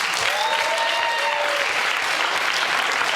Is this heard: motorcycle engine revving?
no